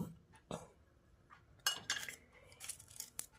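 Teaspoon of fresh tea leaves tipped into a container, a few light metallic clinks and scrapes with soft rustling spills, quiet and close, spaced irregularly over a few seconds.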